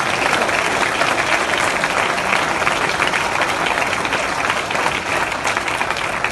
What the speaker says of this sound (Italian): Fate un applauso a questa squadra